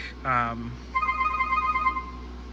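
A short electronic ringtone from a Cisco DX-650 phone plays a bright repeating trill, preceded by a brief tonal note; nobody speaks.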